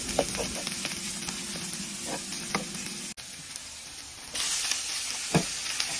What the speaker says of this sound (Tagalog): Yan, lagyan ng luya para medyo matanggal yung lansa.